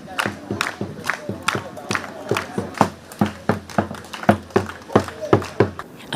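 A waiting crowd led mainly by schoolchildren welcomes a visitor with rhythmic chanting or clapping, loud regular bursts about twice a second over a busy background of crowd noise.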